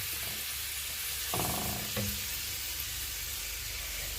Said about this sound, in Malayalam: ഇതൊന്ന് തിളച്ച് ഇതെല്ലാം ഒന്ന് കുക്കായി കിട്ടട്ടെ